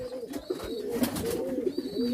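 Low, rolling pigeon coos sound close by, one after another, alongside faint higher chirps.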